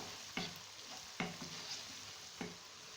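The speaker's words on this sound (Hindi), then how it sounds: "बाकी तमाम स्पाइसेस हम इसमें अभी ऐड कर देंगे। हल्का सा भूनेंगे" Spices fry lightly in a pan for dhaba-style potato and minced meat keema, making a soft continuous sizzle broken by three distinct clinks of a spoon stirring, with no voices.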